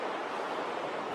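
Pacific Ocean surf washes onto the shore, heard as a steady, broad roar of breaking waves with no distinct individual crashes and no voices.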